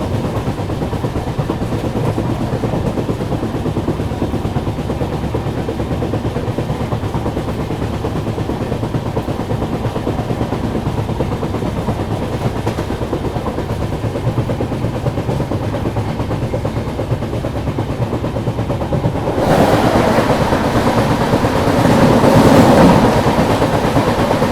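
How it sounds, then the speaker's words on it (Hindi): A train journey carries a steady, loud rumble of rolling wheels and rattling carriages. Near the end the noise swells into a louder rush as the Garib Nawaz Express, bound from Kishanganj to Ajmer, passes from the opposite direction. "अभी सामने से आ रही है गरीब नवाज एक्सप्रेस किशनगंज से अजमेर जाने वाली।"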